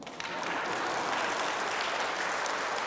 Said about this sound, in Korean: 이때 박수 치시소.